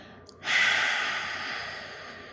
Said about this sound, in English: You can add a cleansing breath of breathing in and then out through the mouth.